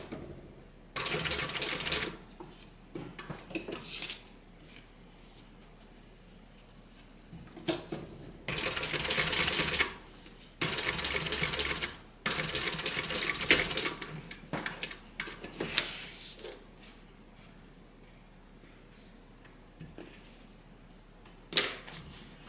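A sewing machine stitches the back piece of a welt zippered pocket for a bag, running in several short bursts with clicking, rattling pauses between them, close up and with no talk.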